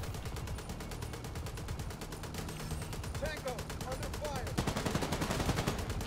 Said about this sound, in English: I'll suppress with my MG.